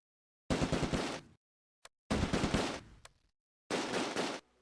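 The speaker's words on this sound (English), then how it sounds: "The Sherman spots it and returns fire." Tank battle gunfire in the Close Combat video game, a WWII Market Garden ambush with a Sherman returning fire: three loud, close bursts of rapid automatic fire separated by short silences, with one brief sharp crack between the first two.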